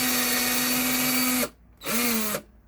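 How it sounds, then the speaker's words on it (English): A power drill drilling into wood whirs at a steady pitch, stops, then gives one short second burst, the motor winding down audibly each time it releases. "right in the center and start drilling"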